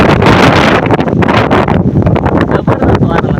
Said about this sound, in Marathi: जबरदस्त वारा लागते.